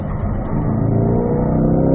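A Corvette accelerates hard out of a corner at Spring Mountain race track. The engine is loud and close, and its steady roar rises in pitch without a break.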